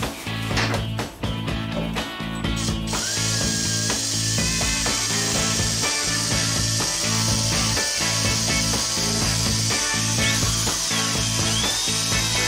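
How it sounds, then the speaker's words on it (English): A power drill whines steadily and loudly, grinding into the metal frame of a 1962 KTM Ponny De Luxe scooter with a high, continuous buzz after a few brief clanks at the start. "So I figured out if I do some drilling"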